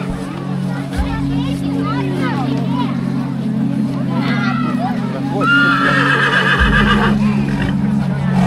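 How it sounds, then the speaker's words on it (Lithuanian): A horse neighs and whinnies several times at an outdoor Užgavėnės carnival celebration in Pavilnys, close and fairly loud over a steady low hum, with crowd chatter and voices around it. "Arkliukas koks fainas."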